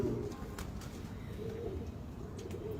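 Pigeons coo nearby in soft, low rolling phrases repeating over a steady background hum, with no voices.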